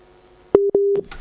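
Telephone line tone during a radio call-in show as a caller's line drops, two short steady beeps close together, clear and alone.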